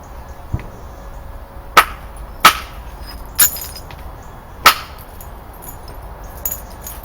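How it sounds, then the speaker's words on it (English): A soft hammer strikes flint while knapping a Neolithic axe head, giving four sharp, ringing clicks spaced about a second apart, close and alone against quiet background. "when the flint is struck with the soft hammer the flakes are directed in the right direction and at the right depth"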